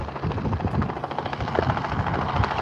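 A light aircraft on approach to Barton Aerodrome, with Manchester airport traffic nearby, gives a loud, steady engine drone with a rough throbbing texture that fills the whole clip; no talk.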